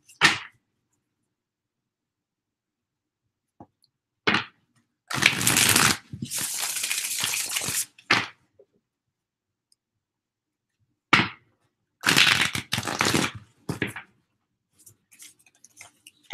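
Tarot cards being shuffled close by, in short crisp bursts of riffling and flicking separated by quiet pauses, with a few light taps between.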